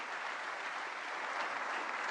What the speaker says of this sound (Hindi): जोरदार तालियों की गूंज के साथ माननीय प्रधानमंत्री श्री नरेंद्र मोदी जी का स्वागत करें।